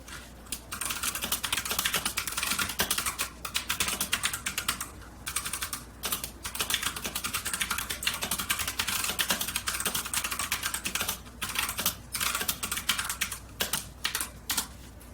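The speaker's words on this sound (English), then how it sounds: "comparing to the drop keyboard, which I felt was more of like a really hard click" Rapid, steady typing on a Drop mechanical keyboard with hard, clicky switches: dense, close key clacks in continuous runs with brief pauses between bursts and no voices.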